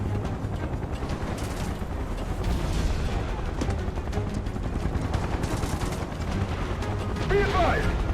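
Gunfire rattles through a Final Fantasy VII Remake battle, dense bursts and booms layered over game soundtrack, with voices shouting over the shooting.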